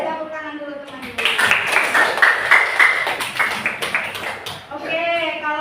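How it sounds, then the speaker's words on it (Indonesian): A burst of rapid hand clapping from a group of children rises up loud between stretches of a voice. "Kasih tepuk tangan dulu teman-teman"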